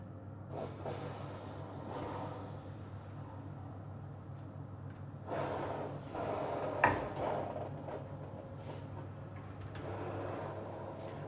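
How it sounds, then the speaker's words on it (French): Steam hisses inside a bread oven as a rye-based sechskornbrot bakes, a steady broadband hiss with surges near the start and midway and a brief clank partway through. "Et on va les cuire avec beaucoup de vapeur."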